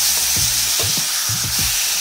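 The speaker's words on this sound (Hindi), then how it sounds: "टमाटर को डालेंगे। और मसाले को जो है भूनिएगा अच्छे से," Spice masala with tomato and turmeric frying in a pan, a loud steady sizzle with repeated scraping stirs of a spoon across the surface.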